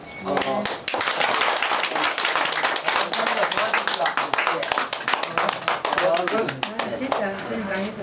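Dense, sustained applause from a lecture audience fills the room for about eight seconds, loud and close, with scattered voices under the clapping.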